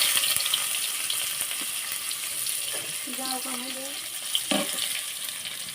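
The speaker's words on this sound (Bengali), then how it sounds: "পাতিলে তেল দিয়ে এখন আমি পেঁয়াজ কুচি দিচ্ছি।" Chopped onion frying in oil in a pot, a constant bright sizzle with stirring clinks and scrapes, fairly loud and close, with no voices.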